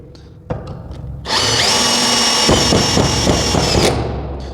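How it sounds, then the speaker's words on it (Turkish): A cordless drill whirs up to speed driving a long screw into material with the clutch set to 9, then the clutch slips into a rapid, loud ratcheting clatter as the chuck spins idle. "O duyduğunuz darbe gibi bir ses arkadaşlar. O darbe değil boşa dönme sesi."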